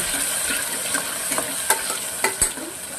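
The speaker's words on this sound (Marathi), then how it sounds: "कांदा आणि टोमॅटो दोन्ही एकत्र टाकून घेते आणि छान तेलामध्ये फ्राय करून घेते" Chopped onion and tomato frying together in oil, a steady hiss of sizzling with several sharp spoon scrapes and taps against the pan, close and clear with no talking.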